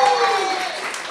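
Live concert audience applauding a bass player, a dense wash of clapping that fades slightly over a moment, with a voice faintly over it.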